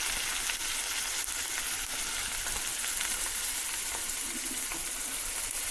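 Chopped tomato frying in a hot pan in a home kitchen, giving a steady close sizzle and faint crackle that runs evenly throughout with no talking.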